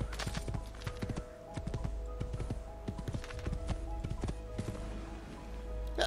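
A horse gallops across rocky ground in Assassin's Creed II, its hooves clattering in a quick, steady clip-clop rhythm that carries on without pause over a constant low background drone of game ambience.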